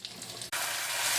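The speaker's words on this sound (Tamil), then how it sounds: "நெய் சூடாயிடுச்சு. மிளகு, சீரகம், முந்திரி பருப்பு அப்படியே நல்லா பொன்னிறமாக வதக்குங்க." Pepper, cumin, cashews and ginger hit hot ghee with a sudden loud sizzle that stays steady and close after a brief quiet moment.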